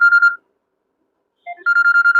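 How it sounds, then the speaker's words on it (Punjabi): A mobile phone ringtone plays in short repeated electronic tone bursts, loud and close, with a brief pause between phrases and no talking. "ਹੁਣ ਦੀਦੀ ਦਾ ਫੋਨ ਆ ਗਿਆ"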